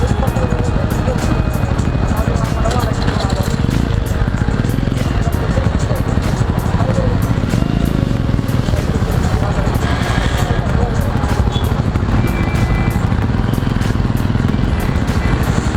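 A Jawa motorcycle engine idles with a steady, rapid throbbing pulse, continuous and close, with someone talking over it.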